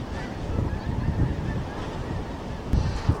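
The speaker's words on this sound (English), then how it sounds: "Dang old geese everywhere." Flocks of geese honk in the distance on a cold, windy winter day at a truck campsite, repeated calls rising over gusty wind noise, with no talking.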